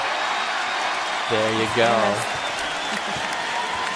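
An NFL stadium crowd cheering and applauding: a steady, distant roar of applause under someone talking.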